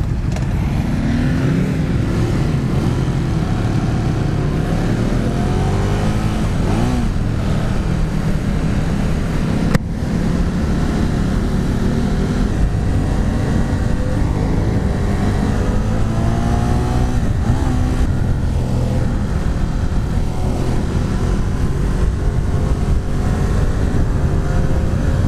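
A Ducati Monster 821 motorcycle engine drones and revs steadily on the road with shifting pitch, loud and continuous throughout with wind noise.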